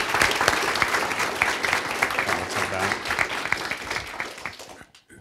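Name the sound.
audience applause at a research talk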